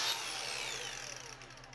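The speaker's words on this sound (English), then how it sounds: "I'm going to see if I can grind this down." A power grinder works a metal part down on a cyclekart replica of the Mercedes W154 in a home shop, giving one steady, loud, harsh whine that fades slightly toward the end.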